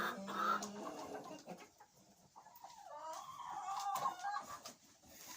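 Chickens cluck near a backyard coop on a snowy day, a few soft calls and murmurs rising over quiet outdoor background, with a brief louder squawk early on.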